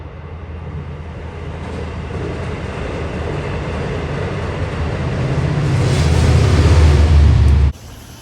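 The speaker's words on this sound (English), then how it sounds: "Lots of trains." New York trains pass in a continuous loud rumble that builds toward a peak near the end, then cuts off abruptly.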